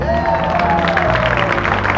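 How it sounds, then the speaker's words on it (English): An audience at a talk show applauds as a continuous wash of clapping and crowd noise, loud and steady, with a voice speaking over it. "give a big round of applause for Shaurya"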